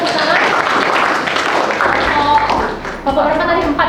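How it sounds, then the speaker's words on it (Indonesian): An audience claps throughout, a dense and loud patter of hands alongside chatter and voices, continuing for a few seconds. "berikan tepuk tangan"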